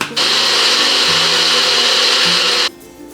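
A blender grinds oats into flour for gluten-free oatmeal cookies, a loud steady whirring roar that runs for a couple of seconds and then cuts off abruptly, with no talking.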